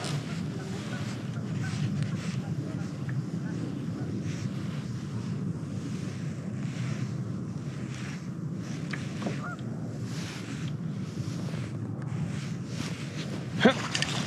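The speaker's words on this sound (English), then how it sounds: "A lot of wind now." Steady outdoor wind buffets the microphone during crappie fishing from a boat, a constant broad rush with low rumble throughout, plus a brief sharp knock near the end.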